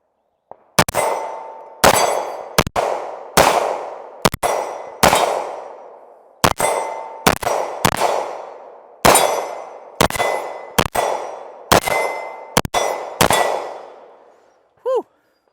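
Competition handgun shots ring off steel targets in a rapid series of about fifteen sharp cracks, each followed by a bright metallic clang that rings and decays, loud and close, with a quieter final ping at the end.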